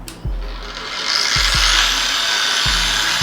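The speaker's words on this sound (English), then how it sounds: "So now I'm going to just switch it on so that you can see the functioning of this dual action polisher." A 600-watt dual action car polisher switched on, clicks followed by a high whirring motor that spins up and holds a steady, loud, close-up whine.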